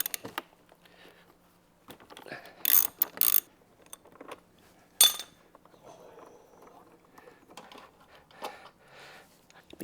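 Bolts being undone from the crash bar mounts of a Honda CRF 300 Rally, with quiet ratchet clicks, tool clatter and a few sharp metallic bursts, heard close alongside faint talk.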